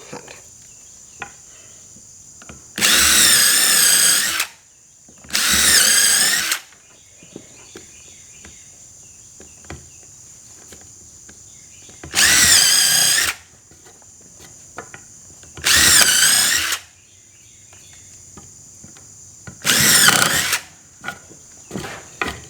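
Five short bursts of a power drill boring holes into a 2x4 piece of wood, each lasting a second or two, loud and close, separated by quiet gaps with a steady high background hum.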